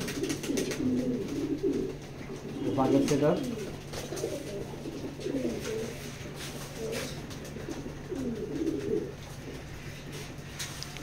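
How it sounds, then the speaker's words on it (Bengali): A male pedigree racing pigeon coos in repeated low, rolling bursts close by, with brief human speech mixed in. "এটা নর কবুতর"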